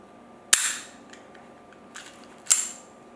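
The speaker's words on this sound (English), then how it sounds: "Let's go ahead and try to put the gun back together. Rotate the barrel around." A Baby Browning 6.35mm pocket pistol is reassembled, with two sharp metallic clicks and a faint tick between them as the barrel is rotated and locked, close up and with no voices.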